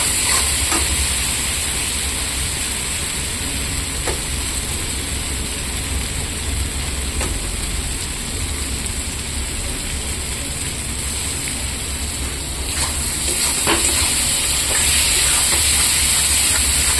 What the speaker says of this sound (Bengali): এটা দিয়ে কিছুক্ষণ ভাজবো।